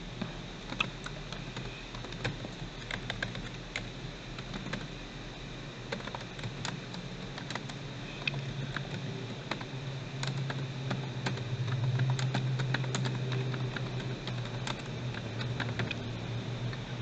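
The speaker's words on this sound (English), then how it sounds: "Oops, let me retype that." Rapid clicking keystrokes on a computer keyboard run in irregular bursts with brief pauses, close and fairly quiet, with no voices.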